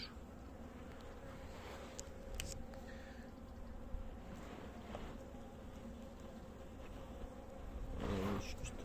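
A low continuous buzzing hum of many honeybees in a hive, steady and close, with a few faint knocks and rustles.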